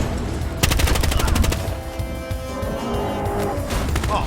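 Gunfire rings out in the heist video game Monaco: a loud, rapid burst of shots like a machine gun, followed by a rough, lingering noisy tail.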